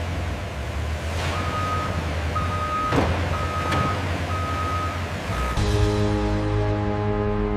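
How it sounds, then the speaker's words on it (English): Sugarcane-laden trucks arriving at a large sugar factory, with steady mid-distance reversing beeps repeating over a low diesel engine rumble, a few sharp clanks, and a louder engine surge near the end. "trucks loaded with freshly harvested sugarcane arrive in a continuous flow"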